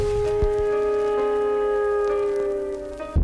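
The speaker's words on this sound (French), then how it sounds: "Seulement, la pluie retomba de nouveau." Rain falls again over Bangkok in a steady, even patter that holds throughout, layered with a sustained tonal hum or music in the background, with no voices.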